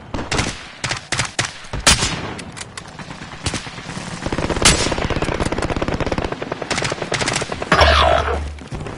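Automatic gunfire from a rifle without attachments in a first-person shooter video game, fast loud volleys of sharp shots in repeated bursts, with explosions and battle effects behind.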